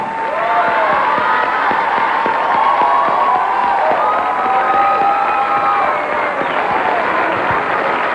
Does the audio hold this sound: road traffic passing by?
no